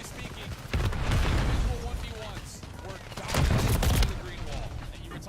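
Gunfire and explosions from a Call of Duty MW3 match, two loud surges of rapid shots and booms under a busy mix, with voices talking over it.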